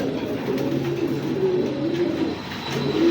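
Pigeons kept for sale coo steadily nearby, low throaty rolling calls repeating over a constant background hum without pause.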